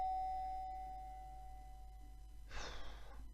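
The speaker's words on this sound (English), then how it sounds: "You wake up to the sound of the doorbell rings you" A doorbell rings once in a quiet room, a faint sustained tone that fades out, followed by a short breathy rustle near the end over a steady low hum.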